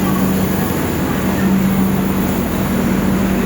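A passenger train sits halted at a station, a steady low rumble and hum of the stationary carriages filling the space, with a faint voice now and then.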